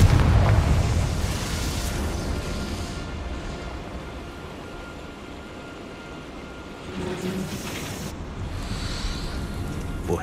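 A Confringo blasting spell goes off in Hogwarts Legacy with a loud, full-bodied boom at the start, then a long rumbling wash that fades and swells again toward the end.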